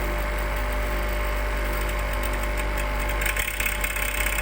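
A lab electric motor runs steadily under load as torque is increased, a constant mechanical hum with a low droning tone and slight roughening of the sound near the end, no talking.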